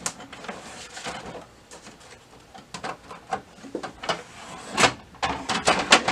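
Paper and a tray are loaded into an Okidata ES7412 printer, a string of close plastic clunks, slides and taps of rising loudness with a firm push at the end.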